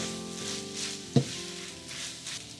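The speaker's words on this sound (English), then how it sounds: "Now let's give this a mix." Chicken croquette filling, seasoned with black pepper and nutmeg, being mixed in a hot pan. A steady, gentle sizzle runs throughout, broken by one sharp clink of the utensil against the pan.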